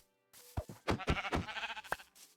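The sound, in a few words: sheep bleating in the video game Minecraft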